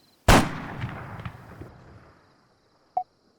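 A sniper rifle shot in the Arma 3 game cracks out loud and sharp, then rolls away in a long echoing tail over about two seconds, followed by a faint, brief distant report near the end.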